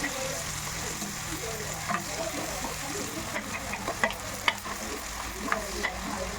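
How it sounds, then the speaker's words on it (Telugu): Green chillies and onions dropped into hot oil for egg biryani: a constant crackling sizzle up close, dotted with small pops and light ticks of the spoon throughout. "వేడయ్యాక పచ్చిమిర్చి ఉల్లిపాయలు ఇలా వేసుకోవాలి"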